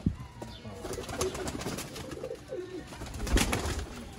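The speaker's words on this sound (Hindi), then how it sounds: "देखो दोस्तों कबूतर आई जा रहे हैं" Pigeons coo in soft, repeated rolling calls nearby as they come in, with light flutters and background noise around them.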